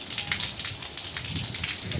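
The first monsoon rain in Konkan falls steadily outdoors, a dense even patter and hiss of drops on surfaces, fairly close and continuous, with no voices.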